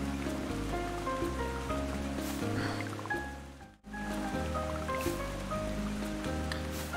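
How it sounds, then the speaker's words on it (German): Rain falls in the video game Garden Story, a soft steady patter mixed under looping game music with a brief dip in the middle before the shower and melody resume. "Regen, Regen, Regen. Immer nur Regen."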